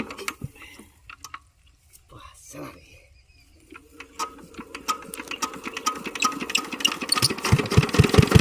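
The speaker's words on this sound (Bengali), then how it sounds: "দেখো মেশিনটা আমি এখন স্টার্ট করছি, আমার দাদা স্টার্ট করছে" A shallow engine water pump used to draw river water starts up, sputtering irregularly at first, then settling into a fast, rapid mechanical chugging that grows louder, with people talking nearby.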